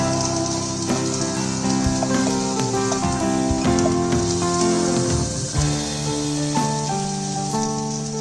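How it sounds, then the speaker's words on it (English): Onions frying gently in a pan as a base for a tomato onion chutney, giving a steady, dense crackling sizzle throughout with no talking. "I've fried the onions for about 2-3 minutes."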